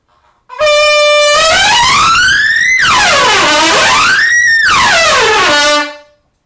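A bright C trumpet blares sustained tones, sliding smoothly up and down in pitch in long sweeping phrases, loud and close.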